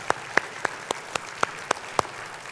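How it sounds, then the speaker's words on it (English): Applause from a conference audience for the day's speakers, heard as a sparse run of about eight sharp individual claps spaced evenly over a quiet room, moderately close and with no talking. "big round of applause to all the speakers today."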